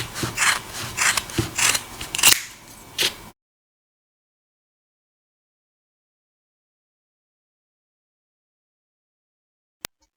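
Scissors snip through yarn while the beard of a crochet Christmas gnome is trimmed, giving a quick run of close, crisp cuts over about three seconds, followed by silence.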